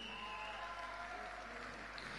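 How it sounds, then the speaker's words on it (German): Applause for the boxer Kerim fills an arena at a boxing final, a steady distant wash of clapping from the crowd with a faint hum beneath, lasting the whole moment. "Ich möchte jetzt für den Kerim einen extra Applaus haben"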